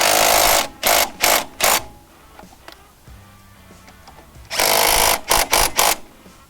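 An impact wrench tightens Can-Am ATV brake caliper bolts in sharp rattling bursts: three quick hits, a pause with faint clinks, then another cluster of three or four loud hammering bursts close by.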